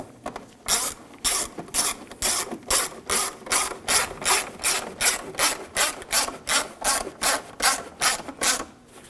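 Ratchet tightening screws while fitting a radiator on a 2007–2013 BMW 328i 3.0L inline-six, a fast, even run of about twenty loud clicking strokes close by with no talk.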